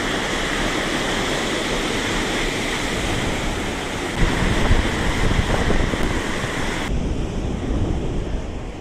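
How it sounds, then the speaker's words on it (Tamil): A monsoon waterfall pours with full force, a loud, dense, continuous roar of rushing water close by, steady throughout with a slight swell in intensity partway. "ஃபுல் ஃபோர்ஸாக போயிட்டு இருக்குது தண்ணி"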